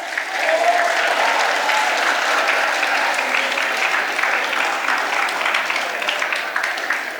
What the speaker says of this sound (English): the biggest disservice which you can do is if you do not give them a big round of applause